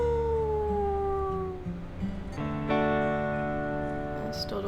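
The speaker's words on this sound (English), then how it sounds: "I'm gonna go ahead and howl to get it up." Wolf howling in the video game WolfQuest, a long wavering tonal howl that slides downward, then a second sustained, layered howl rising in strength, loud and close with no talk.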